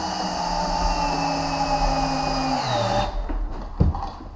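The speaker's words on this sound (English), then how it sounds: "At least I'll know I put 100 screws in the floor." A power drill drives screws into a subfloor during a luxury vinyl flooring remodel, whining loudly and dropping in pitch as the screw seats, then stopping abruptly, followed by a few light clicks and a soft knock.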